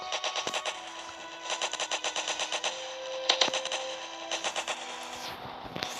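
Rapid bursts of automatic gunfire from a Roblox zombie game, several rattling volleys with short pauses between them, loud and close.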